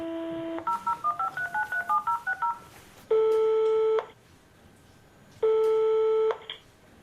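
A telephone number dialled by touch-tone: a short tone, then a quick run of about a dozen DTMF beeps, followed by two long, steady ringback or busy tones separated by a pause, clean and close with no talking.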